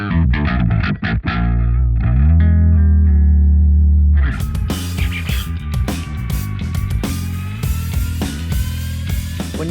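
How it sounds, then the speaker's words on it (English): A clean bass tone shifted down an octave on a Kiesel bass through a HyperRig plays low and thick, distorted and heavily processed, with deep sustained notes and rapid plucked passages in a continuous riff. "That's a clean tone down an octave"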